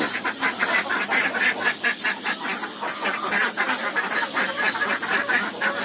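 Laying ducks on a poultry farm in Saraburi call noisily before their morning feed, a dense chorus of overlapping quacks and honks, close and continuous with no talking.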